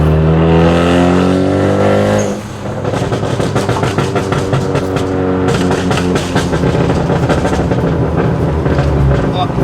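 Ford ST car with a loud, aggressive exhaust, first a steady rumbling drone, then a sudden shift into a rapid burst of crackling pops and bangs that continues close and loud to the end, with voices over it.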